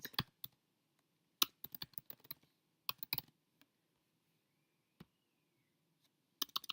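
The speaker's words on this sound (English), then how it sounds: "We're going to type in the domain name that we purchased." Bursts of keystrokes on a computer keyboard as a domain name is typed, clustered clicks separated by short pauses, close and fairly quiet, with no talk.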